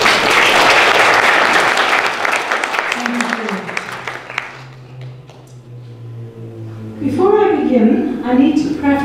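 Audience applause fills a community hall program in Duluth, loud and steady at first and then thinning out, before a speaker starts talking over the last scattered claps.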